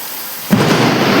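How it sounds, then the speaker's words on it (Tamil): Sudden burst of heavy rain and wind in Chennai, a loud, dense broadband roar kicking in abruptly after a quiet moment and staying steady, with a low rumbling onset like thunder. "சென்னையில் வேகமாக மழை பெஞ்சு செம்ம காற்று, செம்ம மழை"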